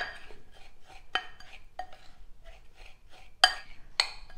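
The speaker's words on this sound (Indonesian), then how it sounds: "kita aduk-aduk dulu sampai semuanya tercampur dengan rata." A cheesecake base mixture with melted butter is stirred in a bowl, giving scattered light scrapes and clinks of a utensil, with a couple of sharper taps near the end.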